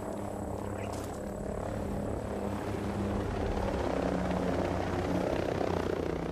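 A helicopter passing overhead in Ghost Recon Breakpoint gives off a steady, loud rotor and engine roar with low throbbing that swells slightly toward the end. No voices are heard.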